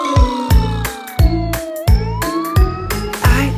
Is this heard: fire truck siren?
yes